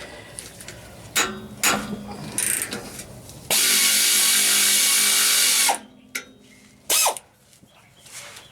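A power tool with a short 14 millimeter socket backs out exhaust bolts on a 2010 Toyota Tundra: one loud steady whirring run of about two seconds between scattered clicks, knocks and ratcheting handling sounds.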